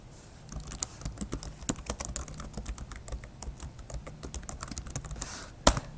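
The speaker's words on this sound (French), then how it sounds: "on va juste taper Symfony server ca install." A Windows computer keyboard clicks in a steady run of close key presses while a Symfony terminal command is typed, closing with one sharp keystroke and no talking.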